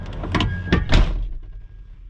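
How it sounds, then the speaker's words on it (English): Door of a 1999 Chevrolet Suburban K1500 swinging shut with a few close rattling knocks followed by a firm solid thud, then a brief quiet decay. "Let's close the door so we don't have to hear backing."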